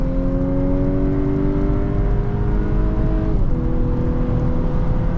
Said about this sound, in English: let's do our elasticity test real quick and see how quickly this car will get up to speed